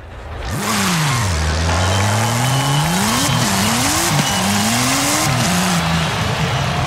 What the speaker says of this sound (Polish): nie zachowuje się jak silnik 40-litrowy, prawda?